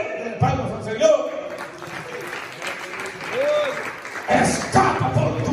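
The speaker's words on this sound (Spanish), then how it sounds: "Palmas al Señor" A church congregation claps in bursts during a sermon, loud rippling applause that rises at the start and again near the end, while a preacher's voice carries on between the claps.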